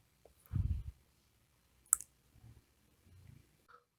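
A few sparse, faint clicks of a computer mouse at a desk, one sharp click standing out among quiet taps and soft handling noise, no voice present.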